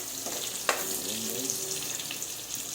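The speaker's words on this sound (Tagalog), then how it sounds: "sandamakmak na bawang ilalagay natin dito guys" A pan of garlic sizzles and fries steadily at a low, even level, with a faint clink of stirring early on and no voices over it.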